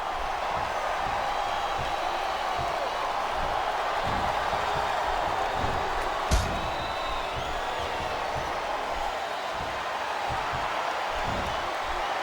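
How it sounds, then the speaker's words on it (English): Crowd at a WWE No Way Out tag match in a wrestling arena: a constant roar of many voices with rhythmic chant-like pulses and one sharp slam-like thud, steady and moderately loud. "I love hearing a crowd come alive, even if I disagree with what they're saying"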